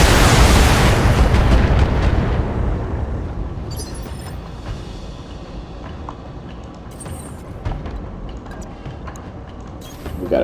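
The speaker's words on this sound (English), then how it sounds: "put him in cover, and go to town with our missiles" A mech fires a missile volley in the video game Battletech, opening with a loud roaring burst of explosions that fades into a long rumbling tail with scattered mechanical clanks.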